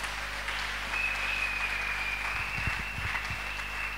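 A church congregation applauds in a large room, soft diffuse clapping at a distance with a steady tone underneath and a few louder thumps near the middle.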